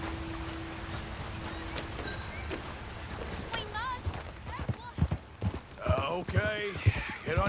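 Horse hooves clip-clop on the ground in the Red Dead Redemption 2 video game, a steady rhythmic trotting that grows louder and busier toward the end, with game dialogue and background sounds mixed in.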